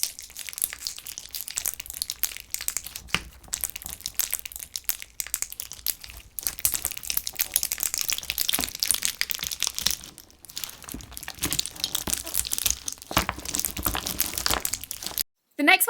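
Clear cube slime with neon pigment being mixed, giving dense continuous crinkling and crunching squelches up close, loud and busy throughout with brief pauses and no talking.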